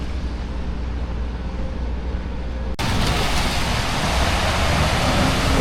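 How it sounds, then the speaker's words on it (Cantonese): Steady hiss of rain falling outdoors in Boston, continuous and even, growing noticeably louder and brighter midway as if moving from shelter into the open, with traffic noise underneath. "仲係落緊雨呢。"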